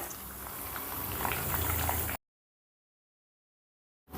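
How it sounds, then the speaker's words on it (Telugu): Garlic cloves with a pinch of cumin fry in hot oil, a steady close sizzle and crackle that cuts off abruptly after about two seconds, leaving silence. "ఈ వెల్లుల్లి రెబ్బల్ని గోల్డ్ కలర్ వచ్చేంత వరకు ఫ్రై చేసుకున్నాం."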